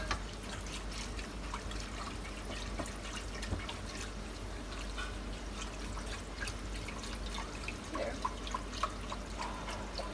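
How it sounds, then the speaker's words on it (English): Milk being whisked in a pot for a beef shin dish, a soft, steady liquid sloshing and dripping with small clicks of the whisk against the pot, close and continuous. "I'm just going to add in our milk into this. I'm going to whisk this."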